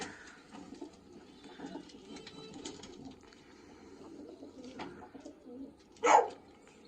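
Pigeons in a loft give soft, low cooing calls at close range, quiet and intermittent through the scene, with one louder coo near the end.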